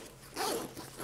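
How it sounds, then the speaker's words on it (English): Zipper on a Tom Bihn bag being drawn closed, a close, dry ratcheting rasp in two short pulls lasting about a second, with no talk. "zipper design as well, zip these up"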